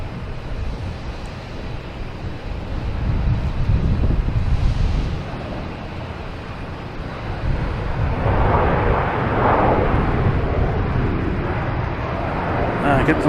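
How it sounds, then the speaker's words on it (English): An American Airlines Airbus A321 arriving from Philadelphia at Boston Logan Airport: a broad, steady jet roar with wind buffeting the microphone, swelling louder in the second half as the airliner passes nearer. "All right, American Airlines coming from Philadelphia."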